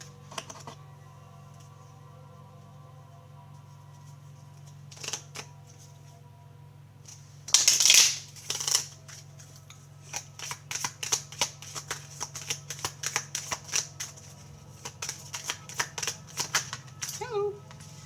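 Tarot cards shuffled and riffled close by, a brief loud burst of card handling followed by a long run of quick, light flicking and tapping, with quiet room hum beneath.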